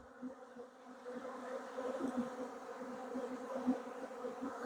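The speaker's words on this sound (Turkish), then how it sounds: "Saklama kabının içine arı giriyor ama onları sonra açar uçururuz." Honeybees buzz continuously with a steady low hum during a honey harvest, several insects close by, faint and droning.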